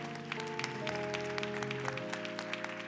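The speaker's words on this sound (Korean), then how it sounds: "축복의 박수를 좀 보내드립시다" A church youth-service congregation claps steadily for a few seconds while sustained organ or keyboard chords play underneath in a large room.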